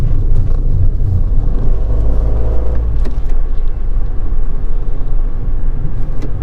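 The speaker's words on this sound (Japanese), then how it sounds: "立ち上がりで2速か3速固定で踏み込むとバルルルルというバイク的な音がして加速します。" A Chrysler Ypsilon Platinum, a rebadged Lancia, accelerates hard out of a corner held in second or third gear, its engine giving a loud, steady, burbling motorbike-like rumble close by.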